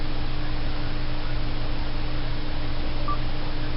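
Steady telephone dialing tone over a low electrical hum and static, continuous and fairly loud, with no one speaking.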